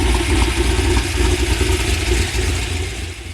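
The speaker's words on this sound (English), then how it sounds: "this THR Camaro sounds awesome" A Camaro V8 fitted with a Tom Henry Racing cam, heads and exhaust idles nearby, a loud, deep, lumpy burble with a steady choppy rhythm and no talking.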